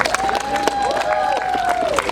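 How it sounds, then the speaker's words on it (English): A crowd claps and cheers for the St. Paul Fire Department at an outdoor live burn demonstration, a short burst of applause with a thin whistle-like tone gliding through it. "So could we have a round of applause for the St. Paul Fire Department?"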